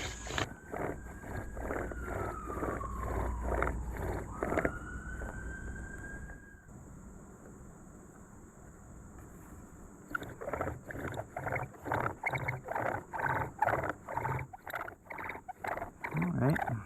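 Bow drill spindle turning in a bearing block, a rapid rhythmic back-and-forth squeaking and rubbing with a rising whine, pausing midway, then resuming in quick regular strokes, close and moderately loud.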